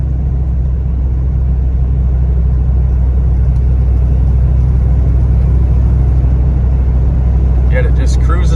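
A 1984 GMC Jimmy Sierra Classic cruises on the highway in overdrive, making a steady low engine and road rumble with constant drone inside the cab and a faint brief sound near the end.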